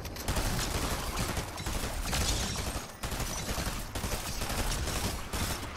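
Thunderburst weapon firing in the Horde Rush game, a relentless stream of rapid shots forming a dense, loud fusillade with brief gaps between volleys.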